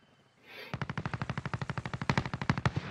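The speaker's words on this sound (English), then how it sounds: "Shooting back here." A rapid burst of automatic gunfire in Call of Duty: Modern Warfare on the Caldera map, about twenty evenly spaced shots firing without pause, moderately close and clear.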